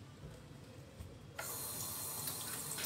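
Water from a tap while leaves are washed, a low trickle that swells abruptly into a steady hissing stream partway through, close and quiet with no talking.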